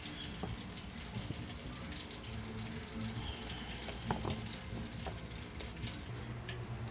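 Hot cooking oil heating in a frying pan before tilapia goes in, giving a steady, moderately loud crackling sizzle with small pops throughout and no talking.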